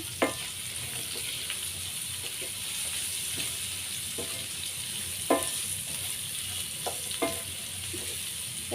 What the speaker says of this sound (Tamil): அப்படியே வதக்குங்க வதக்கிட்டு ஒரு அஞ்சு நிமிஷம் வந்து மூடி வச்சுருவோங்க